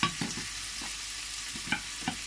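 A spoon stirs minted lamb with giant couscous in a pan. Brisk scraping strokes come in a quick, uneven rhythm over a soft background sizzle, and no voices are heard.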